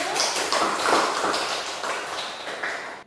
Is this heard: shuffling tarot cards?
no